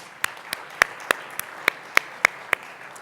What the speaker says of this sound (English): let's give them a round of applause anyways